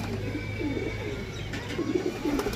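Black-blue pigeons cooing in a loft, several soft throaty coos rising and falling over a constant background hum, close and moderately loud.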